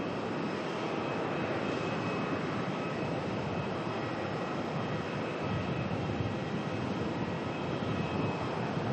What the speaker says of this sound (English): Singapore 380 coming in,